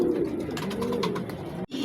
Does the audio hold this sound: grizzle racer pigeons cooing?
yes